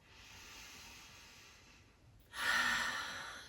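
A single slow, breathy exhale rushes out near and soft during a yoga session, after a quiet stretch with faint background hiss, with no one talking.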